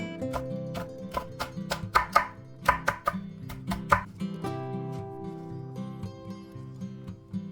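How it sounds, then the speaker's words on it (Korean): A knife chops red and green chili peppers rapidly on a cutting board, sharp quick strikes in uneven bursts, slowing toward the end, with soft background music. "홍고추와 풋고추는 송송 썰어 씨를 털어줍니다."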